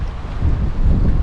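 Strong wind buffets the microphone at a lakeside boatyard, a dense, gusty low roar that swells toward the end with no other sounds.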